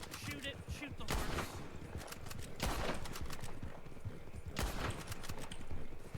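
Video game gunfire crackles in rapid bursts and scattered single shots at moderate level, mixed with hoofbeat-like clatter, while a person talks over it.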